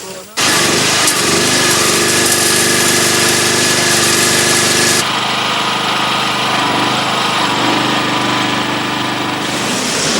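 An off-road vehicle engine on the 1989 Camel Trophy expedition drones loudly and steadily for the whole stretch, its tone shifting and thinning slightly about halfway through.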